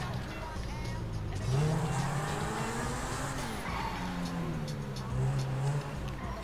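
Car driven in GTA V Online, its engine humming and rising and falling in pitch as it revs and shifts, steady and fairly close throughout with faint background game ambience.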